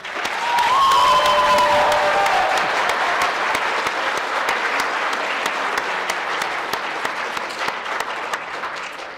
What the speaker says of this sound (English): I just want to have everyone give a round of applause to Coach Moat